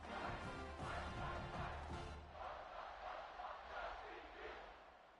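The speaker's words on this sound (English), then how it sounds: "this crowd is buzzing after that last score" A stadium crowd roars and buzzes after a kickoff return touchdown at a football game, a broad, sustained wash of cheering that swells and eases, heard at a distance and fairly faint.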